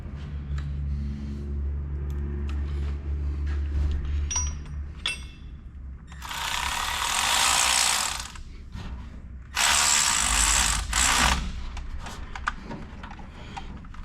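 Mechanic works with a socket ratchet while pulling the engine from a 1951 Jeep CJ3A, giving bursts of rapid ratcheting clicks and metal clinks over a low rumbling background, close and without talk.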